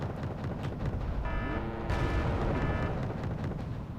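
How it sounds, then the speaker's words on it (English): Heavy artillery slams into a T-72 tank in the video game Wargame: Red Dragon, a sustained loud rumbling barrage with booming impacts and a brief whining tone before a louder burst near the middle. "And now my T-72 is being hit by heavy artillery."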